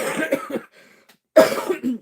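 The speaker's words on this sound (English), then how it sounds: "I'm still getting over the cough" Two bursts of coughing close by from a person recovering from a cough, a rough hacking cough followed by a pause and then another harsh cough.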